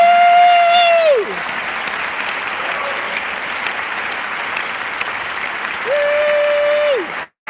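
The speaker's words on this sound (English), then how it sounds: "would you four be so kind and stand up and receive the applause of the audience?" An audience in a concert hall gives a sustained round of clapping for an instrumental quartet, dense and steady throughout, with a loud sustained tone heard at the start and again near the end.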